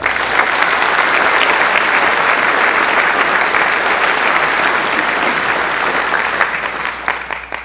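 Sustained applause from a large crowd at an outdoor hometown banner ceremony, steady and dense clapping throughout, tapering slightly toward the end.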